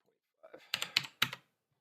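Short burst of keyboard typing used as a sound effect in an Unreal Engine 4 hotel game, four or five quick clustered key clacks, close and crisp, alone with silence before and after.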